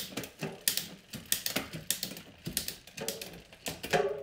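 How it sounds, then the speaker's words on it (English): A bicycle derailleur barrel adjuster on the front shifter cable is turned by hand, giving a quick run of close, fairly soft clicking ratchet ticks with no voices. "I'm going to turn the barrel to loosen it up a little bit"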